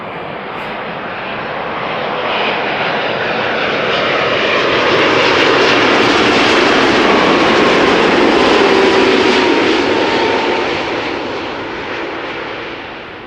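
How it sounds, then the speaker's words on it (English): A KLM passenger jet lands at Schiphol Airport, its engine roar swelling loud as it passes close overhead and then fading gradually away. "This was KLM flight 758 passing by, doing a floaty landing."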